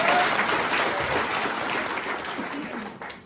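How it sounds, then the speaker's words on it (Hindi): Audience applause for Prabhu sir at a motivational training seminar, a burst of clapping from a crowd that starts strong and holds steady before tapering slightly, with no talk over it. "ताली बजाओ प्रभु सर की"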